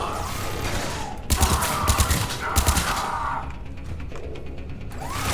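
Turret gunfire in Mass Effect 3 rattles in rapid bursts of loud, close shots. Clustered volleys start abruptly, then give way to quieter, scattered fire and mechanical clatter.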